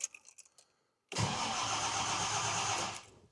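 A 1970 Jaguar XJ6 on choke cranks briefly and then fires, settling into a loud, steady idle that holds for about two seconds before fading, with no voices over it.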